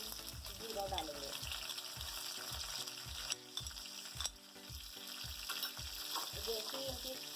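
Curry leaves and cumin seeds sizzle in hot oil in a pan, a close, steady crackling fry with soft, regular stirring scrapes, and no voices.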